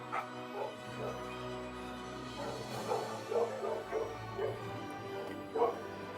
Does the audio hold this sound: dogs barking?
yes